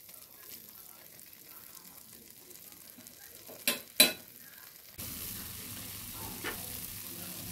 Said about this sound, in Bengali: ভালোভাবে হালকা আঁচে নেড়ে দিচ্ছি।